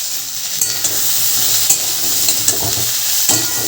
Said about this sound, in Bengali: এখানে আমি একটু ফ্রাই করে নিচ্ছি।